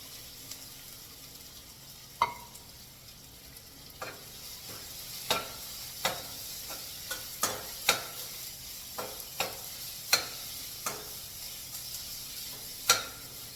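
Gravy of ground fresh coconut, green chili, cumin and salt simmers in a pan for a tomato walnut meal-maker curry, with a soft continuous sizzle and a series of sharp spoon taps and scrapes from stirring.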